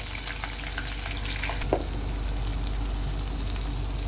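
Onions with turmeric and chili fry in a pan with a steady, soft sizzle and a brief stirring clink, continuous and close with no talk.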